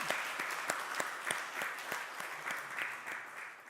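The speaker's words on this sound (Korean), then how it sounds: "우리 박수로 환영하시겠습니다." A church congregation applauds to welcome a couple during a Sunday worship service, steady clapping of many hands in a large room, moderately loud and sustained, fading slightly at the end.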